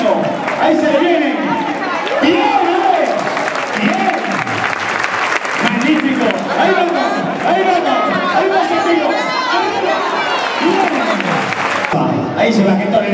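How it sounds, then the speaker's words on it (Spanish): A bullring crowd at a bull-leaping recortes final applauds loudly and continuously, mixed with chatter and cheers, while a commentator talks over the noise. "Y ese fuerte aplauso, excelentísimo."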